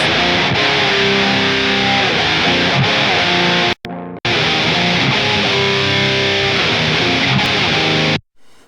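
Heavily distorted electric guitar chords through the freeware LE 456 amp plugin, played loud and continuously, broken by a brief pause midway, then more riffing that cuts off abruptly.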